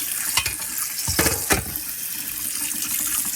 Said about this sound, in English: we're going to make sure you rinse off the cedar really well